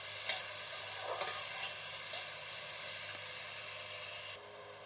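Tomatoes fry in a pan for a spicy Bengali fish dish, giving a soft, steady sizzle with a few light pops and stirring touches before it cuts off near the end.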